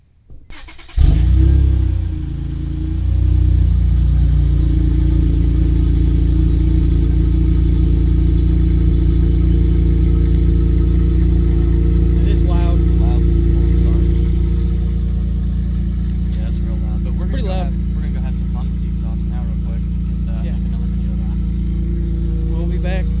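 A Honda Accord with no exhaust fires up on a cold start: a brief crank, then a loud raw engine catching and settling into a steady, throaty close-range idle that continues throughout, with occasional voices under it.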